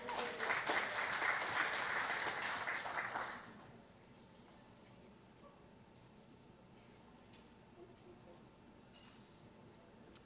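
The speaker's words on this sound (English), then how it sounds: "You can give her a round of applause." Audience applause at a church service, a brief burst of clapping that fills the opening few seconds and then cuts off, leaving quiet room tone.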